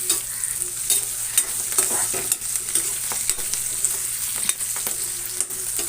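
Green chillies and curry leaves frying in hot oil, with a steady, close sizzle and repeated scrapes of a stirring spoon against the pan.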